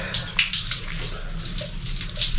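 Cold water pouring for a bath in Tete, Mozambique, a steady splashing rush with no talk over it.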